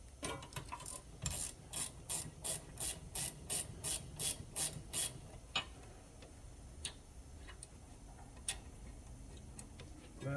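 A gear wrench ratchets out a brake caliper bolt during a rear brake rebuild: a close run of about a dozen evenly spaced clicks, then quieter scattered ticks and knocks.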